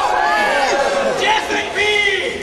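A crowd at Edinburgh Castle shouts together in a loud, sustained group roar calling for death, voices overlapping and swelling across the whole moment.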